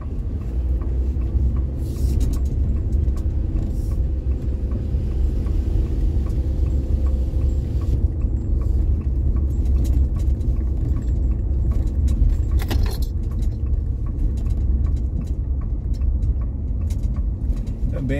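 Car engine driving uphill through the historic town centre of Igarassu, a steady low rumble held throughout at close range, with faint ticking and jangling over it and no talk.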